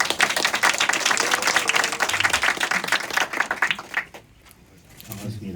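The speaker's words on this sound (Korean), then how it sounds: "큰 박수 부탁드리겠습니다." Audience at a party leader's meeting with young people in Jeju applauding, dense clapping for about four seconds that then drops away, leaving quiet room sound and a faint voice.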